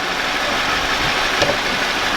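A Jeep Wrangler JLU's 2.0 turbo engine idles steadily up close after a spark plug change, a constant, even rumble with no voices.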